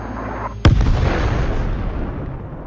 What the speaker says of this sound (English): One of the Bradleys then fires a tow missile.